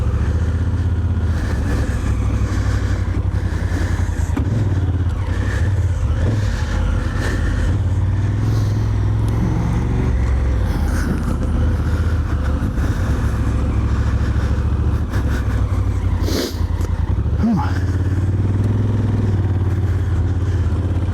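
A Honda Africa Twin DCT motorcycle ridden on a dirt single-track trail, its engine droning steadily and loudly throughout with rumbling, clattering over rough ground and occasional revving.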